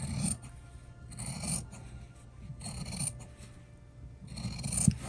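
Scissors snip and rasp through sewn fabric while trimming the seam allowance of a small fabric basket for sewing clips, several short cutting strokes close up with brief pauses between them.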